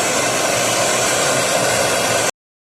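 A brazing torch works on a short pipe joint of a 2-ton split air conditioner, giving a steady, loud, even hiss that holds unbroken for a little over two seconds and then cuts off abruptly.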